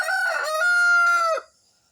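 A rooster at a chicken farm lets out one loud, close crow that rises, holds steady, and breaks off after about a second and a half, leaving quiet behind it.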